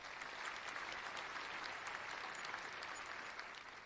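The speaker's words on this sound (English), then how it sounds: "That was kind of a sarcastic clap" Sarcastic applause during a sports talk radio show, a steady wash of clapping that holds at an even, fairly faint level for a few seconds with no voices over it.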